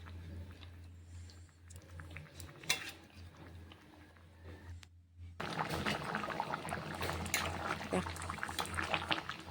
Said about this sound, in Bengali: দেখো বন্ধুরা আমি একটু জল দিয়ে দিলাম